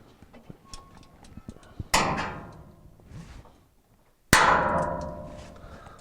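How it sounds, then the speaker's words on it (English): Spring clamps snap back onto a Whirlpool washer drain hose during repair, with scattered small clicks and handling noises followed by two sharp metallic clanks, each ringing out and decaying over a couple of seconds. "we can go ahead and put our spring clamps back on."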